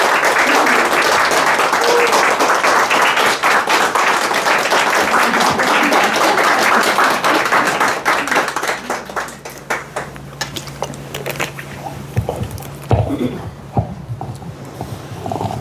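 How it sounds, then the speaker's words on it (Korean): Loud, dense applause from an audience at a book launch lecture welcoming the author, steady for several seconds before thinning into scattered claps and fading. "박수로 맞이해 주시기 바랍니다."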